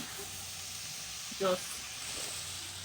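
Mixed vegetables fry in a pan, giving a soft, steady sizzle and hiss heard close up. A brief voice cuts in partway through.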